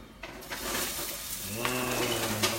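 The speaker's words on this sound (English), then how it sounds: "And then you'll notice the sizzle." Chicken sizzling in a hot pan, a steady broadband hiss that holds for the whole stretch and swells slightly partway through, with faint stirring scrapes and no talking.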